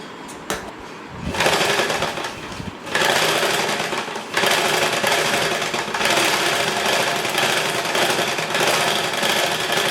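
A sewing machine stitches the lining and main fabric of a blouse back neck together. It runs in several close bursts of whirring, separated by short pauses.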